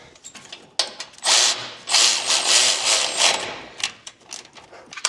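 Parts being tapped and fitted on a Ford F150 IWE hub with a soft plastic mallet-type tool, heard as a few close, sharp knocks and mechanical clatters with brief bursts of noisy rattling between quieter gaps.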